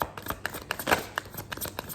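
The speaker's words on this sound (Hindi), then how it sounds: "I will use this romance angel cards and I will take some cards and clarify them" Romance angel oracle cards being shuffled and handled, a close, quiet run of soft flicks and papery slaps in an irregular rhythm, with no voices.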